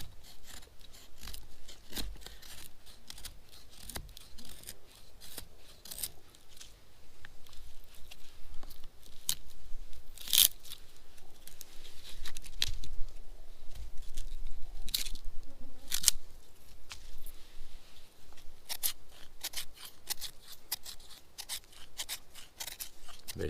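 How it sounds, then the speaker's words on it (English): A knife shaves wood into feather stick curls for survival fire making, giving repeated close, dry scraping strokes in an irregular rhythm with no talking. "Basically, we're just going to shave off a lot of material."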